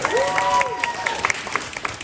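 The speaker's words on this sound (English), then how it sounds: "So yeah, round of applause for that." Crowd applause at the opening of a Black art fair in Toronto, brief scattered clapping and cheering with voices mixed in.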